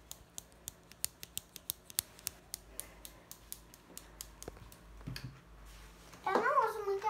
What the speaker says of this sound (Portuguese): eu tenho uma tesoura de brinquedo